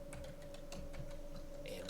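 Light, quick keystrokes of code being typed on a computer keyboard tap away close by and faintly over a steady background hum, in short irregular bursts.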